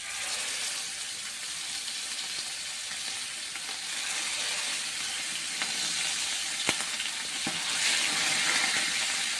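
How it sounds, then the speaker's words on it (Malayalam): Loud, continuous sizzling of mackerel frying in hot coconut oil over low-medium flame, steady and close, with a few small pops and no voices. "ഓരോന്നോരോന്നായി നമുക്ക് വെളിച്ചെണ്ണയിലേക്ക് ഇട്ട് കൊടുക്കാം"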